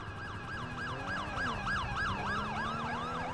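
Police car sirens in a video game wail together in overlapping rising and falling sweeps, several at once, steady and moderately loud over a low engine rumble, with no talk.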